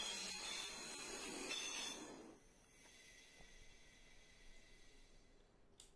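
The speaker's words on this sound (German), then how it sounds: "Da hört man das Lösen der Bremsen." Simulated train in Train Simulator 2021 at Frankfurt West station: a loud hissing air release from the brakes for about two seconds, then a quiet low rumble with faint mechanical clicks as the train begins to move.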